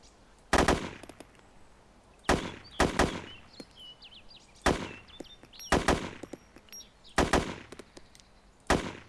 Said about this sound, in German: da schießt schon wieder jemand